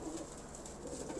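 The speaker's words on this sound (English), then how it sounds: "Gorgeous birds." Pigeons kept as breeder cocks coo softly and steadily in a loft, low throaty murmurs under a faint background hiss, with no talk.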